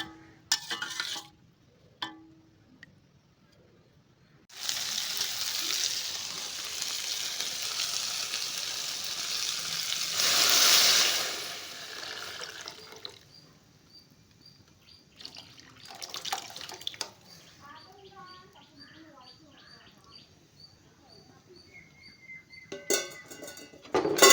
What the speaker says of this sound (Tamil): பருப்பு கடையில் ஊற்றுனதுக்கப்புறம் நல்லா மிக்ஸ் பண்ணி விடுங்க